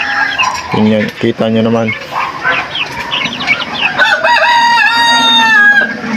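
Backyard chickens recovering from fowl pox cluck and crow close by while they feed, with a rooster's crow and busy clucking throughout and someone talking over them.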